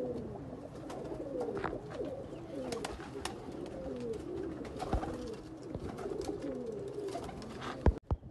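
Sialkoti pigeons held in a cage at a sale in Faisalabad give steady, overlapping low cooing throughout, close and moderately loud, with no talk over them.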